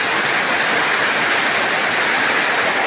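Heavy rain pours down in a dense, loud, steady wash of broadband hiss that is close and unbroken, while people bathe in it.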